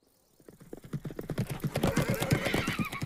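A horse clip-clops in a quick, steady rhythm of hoofbeats that grows louder as it nears, with a whinny rising over the hooves toward the end.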